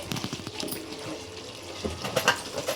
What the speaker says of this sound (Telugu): ఇప్పుడు మనం వాటర్ వేసుకుందామండి